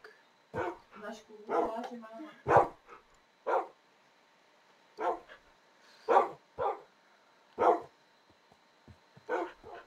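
Dogs bark and growl during a video game battle against skeletons, with sharp bursts coming in an uneven rhythm, close and fairly loud, separated by brief quiet gaps.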